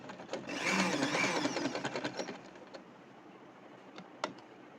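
A sewing machine stitches a seam on a bustier blouse, running in a steady close whirring burst for about two seconds before it stops, followed by a few small clicks in near quiet.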